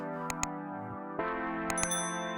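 A phone notification chimes twice in quick succession over a sustained tonal hum, then after a brief shift two more bright dings ring out, clear and close.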